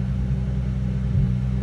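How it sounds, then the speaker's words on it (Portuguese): A car engine idles just after its first cold start of the day, giving a steady, close, deep rumble that holds without a break for the whole moment, with no voices over it. "Cold start."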